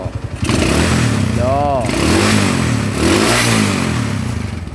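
A motorcycle engine revs loudly and close up with rising and falling pitch sweeps during a workshop check of its pickup and charging system, under steady engine roar and occasional talk.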